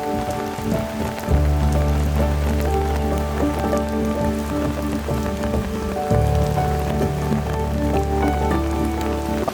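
Rain falls outdoors in Tsim Sha Tsui, Hong Kong, with a steady close hiss of drops on surfaces over a constant low droning hum.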